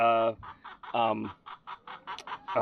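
Chickens, including Americanas, cluck close by in quick, uneven bursts, with a couple of louder squawks mixed in; no one speaks.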